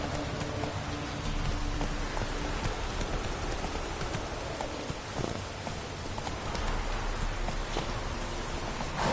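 Horse hooves clip-clopping in The Witcher 3 on PS4, a steady rhythmic trot under a dense, constant wash of rain-like noise, with no talking.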